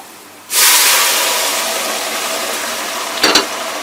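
Hot baghar tempering poured into chana dal bursts into a loud, sudden hissing sizzle that starts abruptly and holds steady, slowly easing, with a brief metallic clatter near the end.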